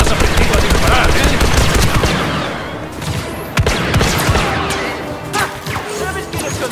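Blaster fire during third-person Star Wars Battlefront II gameplay: loud, rapid volleys of sharp zapping shots with crashing impacts, dense at first, then breaking into scattered bursts.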